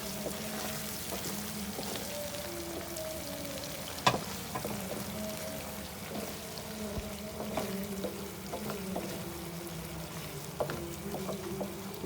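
Goat brain masala frying and roasting in a pan, with a steady, continuous sizzle throughout, occasional sharp clicks and scrapes, and a faint low hum underneath.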